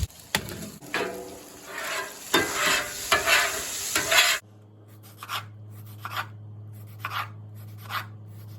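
Burger patties topped with cheese fry on a hot surface, a close scraping and stirring sound followed by quieter intermittent crackles of sizzling.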